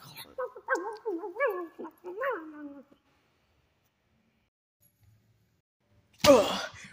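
Cartoon dog on a stage in Total Drama Action, giving a run of whimpering, whiny yelps followed by a pause and one sharp, loud bark at the end.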